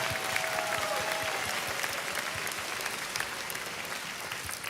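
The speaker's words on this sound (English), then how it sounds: "Let's give both of those young ladies another round of applause." Graduation audience applauding steadily at a 2023 high school commencement, a dense, sustained clapping from a large crowd that holds at an even level throughout.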